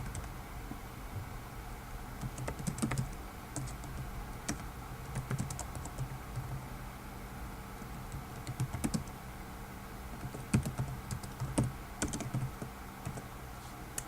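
Someone types an answer on a computer keyboard in quiet, scattered bursts of soft key clicks over a low background hiss, with no voices.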